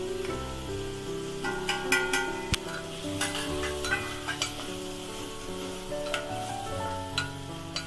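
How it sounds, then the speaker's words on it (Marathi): Soya chunks and broken wheat dalia fry in hot oil, a continuous close sizzle broken by scattered stirring scrapes and clicks from a spoon in the pan, with no talking. "चांगलं तेलामध्ये भाजून घ्यायचं आहे."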